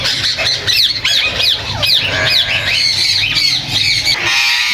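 Caged birds at a Sunday bird market in Bahawalpur squawk loudly and close by, a rapid run of harsh, sliding shrieks repeating almost nonstop over a low background murmur.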